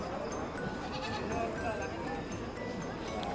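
Goats bleat repeatedly at a busy livestock stockyard, several calls rising over a dense crowd murmur and chatter.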